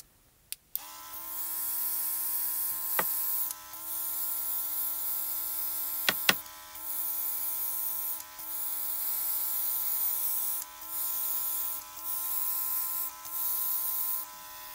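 A small airbrush compressor hums with a steady tonal buzz as ink sprays in repeated hissing bursts, broken by brief pauses and a few sharp clicks, close up and alone.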